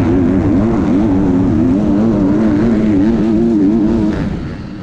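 A motocross motorcycle engine revs loud and close during an MXGP race in Italy, its pitch wavering steadily up and down as the throttle is worked, running continuously before easing off at the end.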